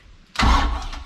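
An abandoned boat's engine cranks over abruptly, a sudden rumbling burst after near silence that churns briefly without settling into a steady run.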